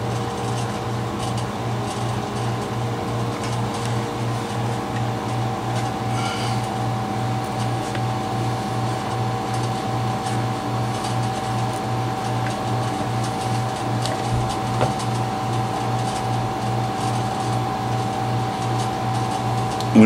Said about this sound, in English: I apologize for the air conditioner.